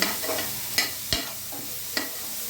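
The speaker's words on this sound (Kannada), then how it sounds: "ಅದೇ ಬಾಣಲೆಗೆ ಕ್ಯಾಪ್ಸಿಕಮ್ನ ಹಾಕಿ ಫ್ರೈ ಮಾಡ್ಕೋಬೇಕು" Soft frying hiss of capsicum with a few sharp scraping clicks of a spoon stirring in a pan, no voices.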